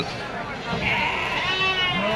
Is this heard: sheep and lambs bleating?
yes